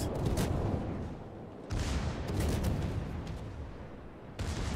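Salvo of naval ship guns firing in a game, Atlanta, Belfast and Flint cruiser division: dense rumbling booms with sharp onsets near 1.7 and 4.4 seconds, loud and continuous, with no talk.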